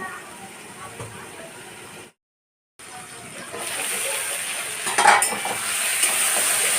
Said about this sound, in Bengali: এবার আমি ঢাকা দিয়ে হাই ফ্লেমে এটাকে ভেজে নেব।